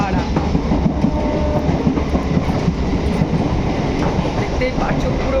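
Steady rumble and rattle inside a moving, nearly empty passenger train at night on an Indian railway, continuous loud low roar with faint rhythmic clatter of wheels on rails throughout.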